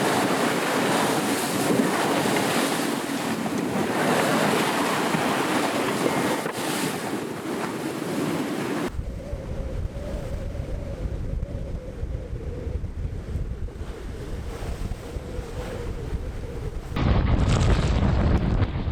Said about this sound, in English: we can see the waves crashing on the shore behind us